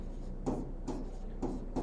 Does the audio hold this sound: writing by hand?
yes